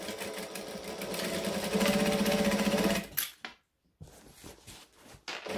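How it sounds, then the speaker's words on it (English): A sewing machine stitching a fleece-padded bag, running in a steady whirring burst for about three seconds, then stopping, followed by a pause and softer handling noises and brief restarts. "Sewing around, veering off the top."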